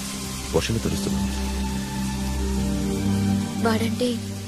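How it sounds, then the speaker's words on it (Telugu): Steady rain pours outdoors as a broad, continuous hiss throughout, with people speaking briefly over it near the start and again toward the end. "ఏంట్రా వర్షంలో తెలుస్తున్నావు?"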